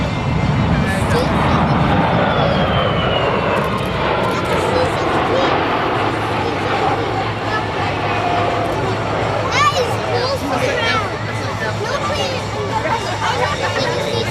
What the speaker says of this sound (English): Rolling by from your right-hand side, the C-17, the Globemaster.